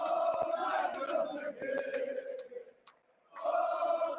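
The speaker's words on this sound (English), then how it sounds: "You hear the crowd." Wrestling arena crowd at an AEW championship match, Kenny Omega versus Will Ospreay, relayed through a phone call: a thin, boxy roar of cheering that swells, dips briefly near the end, then surges back, with faint clicks over it.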